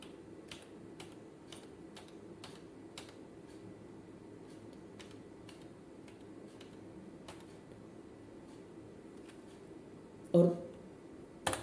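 Typing on a computer keyboard while entering a spreadsheet formula, sparse individual key clicks spaced irregularly over a quiet fan hum, ending with a louder knock near the end.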